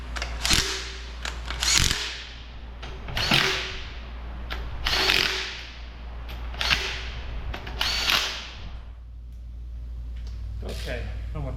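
Ratchet wrench snugging cylinder head bolts on a 1967 Shelby GT500 engine during a rebuild: about six close, raspy bursts of ratcheting clicks in a steady stroke rhythm over a low, constant hum.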